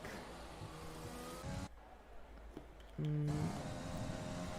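A race car engine in a sim racing game at an Italy round, heard as a high engine whine that drops out briefly, then returns with a short low tonal burst and a steady roar.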